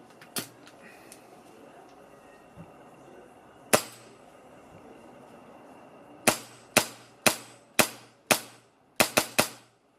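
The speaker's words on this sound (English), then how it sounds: "So that's a lot of big bang on blowback." A Hi-Capa airsoft pistol fires with heavy blowback, sharp loud cracks that start singly and spaced, then come in a quick run of about eight shots near the end.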